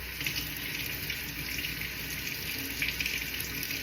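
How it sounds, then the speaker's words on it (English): Tap water runs steadily into a sink while something is rinsed underneath, a continuous close splashing hiss with slight fluctuations and no talking. "Rinsing it off, getting the skin off underwater is good too."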